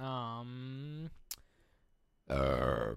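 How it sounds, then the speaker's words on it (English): A man gives a long, loud, close burp, then after a click and a short pause lets out a second deep burp. "That was a man burp."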